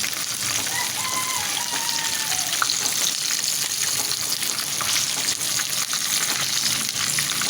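Chicken pieces frying in oil in a pan, a loud steady crackling sizzle that runs unbroken throughout with no voices.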